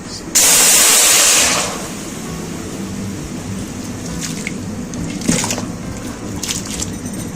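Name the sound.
cooked mutton being added to a hot kadhai, sizzling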